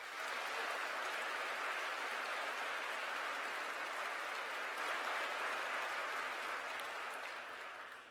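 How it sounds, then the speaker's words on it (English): Warm applause from a civic audience greeting dignitaries and elected officials at San Diego's 2020 State of the City Address, a dense, steady wash of clapping that holds for about eight seconds before easing slightly at the end. "Please join us in giving all our dignitaries and elected officials a warm round of applause."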